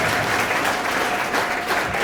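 A church congregation applauding at a prophecy and prayer service, a steady, dense wash of clapping that fills the whole stretch at close range without letup.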